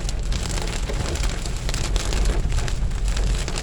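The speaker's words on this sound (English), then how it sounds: "I love the sound of rain." Heavy rain pouring down outdoors on a Thursday, a steady dense hiss and patter of drops on surfaces that stays loud and unbroken throughout, with no voices.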